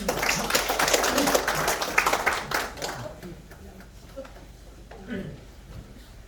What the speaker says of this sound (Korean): 큰 박수를 다시 한번 부탁드리겠습니다